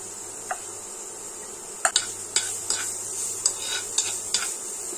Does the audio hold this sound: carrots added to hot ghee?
yes